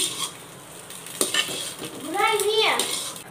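Fried eggs are scraped from a kadai into a bowl, with a spatula clinking and scraping against the metal over a faint sizzle, and a short squeaky sliding sound near the end.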